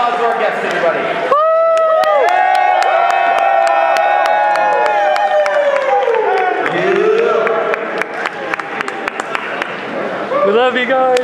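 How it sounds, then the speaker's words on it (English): An audience at a Power Rangers convention panel at MorphiCon 2014 cheers and claps loudly, with whoops and shouting voices mixed into the crowd noise and steady applause throughout. "Let's give one last round of applause to our guests"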